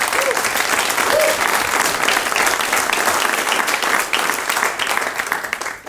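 A conference audience claps steadily and loudly for the speakers, a thick, sustained wash of applause that holds for several seconds before easing slightly at the end.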